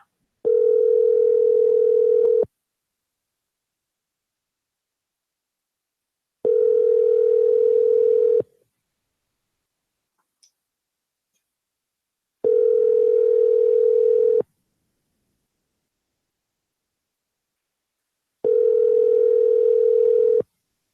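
A telephone call rings out on the line: four evenly spaced two-second tones separated by long silences, loud and clean with no voices.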